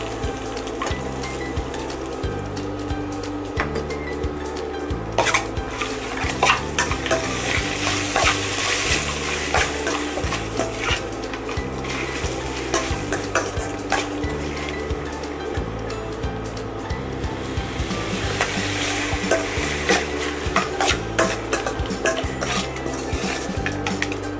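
Curry leaves and green chilies fry in a pan for puffed rice upma, making a continuous sizzle with repeated spoon scrapes and metallic clinks, while a low rhythmic tone plays underneath throughout.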